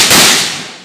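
A single sharp, loud rifle shot at live firing practice by the Tripura State Rifles, a close crack followed by a short fading outdoor echo.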